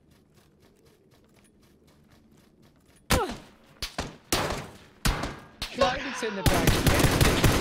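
Sharp, loud gunshots ring out in PUBG on the snow map, a few single cracks then denser rapid fire after a quiet start, with a commentator speaking.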